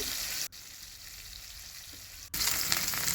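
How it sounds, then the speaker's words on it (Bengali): Fish sizzling in hot oil in a pan, a steady, close hiss that drops quieter for a couple of seconds and then swells loud again. "এরপরে এই মাছটাকে ভেজে নেব"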